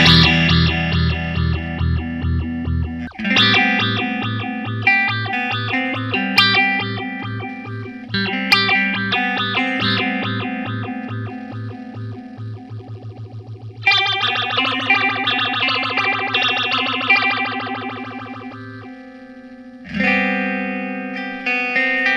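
Electric guitar runs through a PastFx rotary phaser pedal, an original EHX clone, with chords and picked notes over a steady low riff, the effect jumping between low and high sweep; loud and close, no voices.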